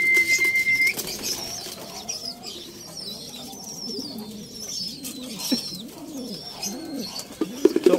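Racing pigeons at a loft during derby training, with bird calls, soft cooing and wing flaps over a busy outdoor background; a checkered white-light bird comes in but hesitates before entering.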